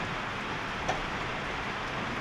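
Steady rain hiss, even and moderately loud, with one brief tap near the middle.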